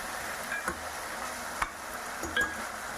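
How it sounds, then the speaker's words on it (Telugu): A spoon stirs ginger garlic paste with tomatoes in a pan for mutton curry, soft scraping and light clicks over a steady low sizzle, close and unhurried. "అల్లం వెల్లుల్లి పేస్ట్ వేసుకుంటున్నాం. దాన్ని కూడా మనం బాగా మిక్స్ చేయాలి."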